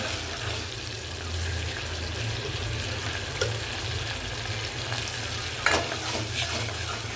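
Toor dal poured into a hot pan and stirred, a steady frying sizzle with a soft watery hiss throughout and a couple of brief scrapes of the stirring utensil against the pan.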